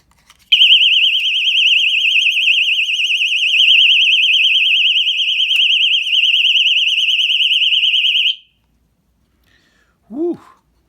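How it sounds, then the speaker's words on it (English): A mini door alarm sensor blares a loud, continuous high-pitched warbling siren for about eight seconds, then cuts off abruptly, followed by a brief exhale. "That's the alarm."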